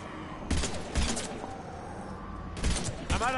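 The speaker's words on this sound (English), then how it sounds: "You can just fire continuous like this." Gunfire in the video game Mass Effect 3 comes as short bursts of shots in two clusters, separated by a quieter stretch with faint game sounds in between.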